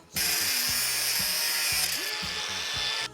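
An angle grinder cuts through a metal part during a turbo upgrade on a Nissan Patrol, a loud, close, continuous high whine with the motor pitch dipping as the disc bites, over about three seconds.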